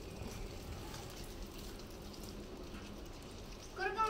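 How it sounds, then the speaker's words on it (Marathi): Rain falls steadily, a soft, even patter of drops close by at low level, with a brief louder clatter near the end and no clear speech. "बऱ्याच दिवसानंतर का नाही आज आपल्याकडे पाऊस आलाय"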